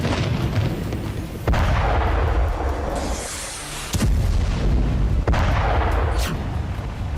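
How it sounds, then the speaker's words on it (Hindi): Bombing and artillery explosions in Gaza: several sharp, heavy booms at irregular intervals, each followed by a rumbling decay, over a dense background rumble. "इजरायली सेना ने गाजा पर एक बार फिर बमबारी तेज कर दी है"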